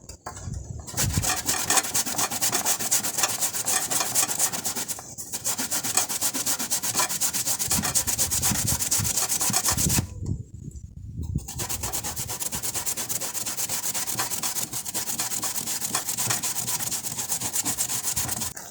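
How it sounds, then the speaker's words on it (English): Sweet potato and cocoa grated by hand for a Jamaican dessert, a close, continuous rough scraping in fast repeated strokes with two brief pauses, no talk. "I'm going to grate my sweet potato and my cocoa."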